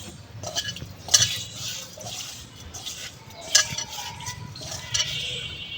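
Raw prawns are mixed by hand with salt and turmeric in a bowl, making soft wet squelching and stirring sounds with a few sharp clinks against the dish, fairly close and quiet.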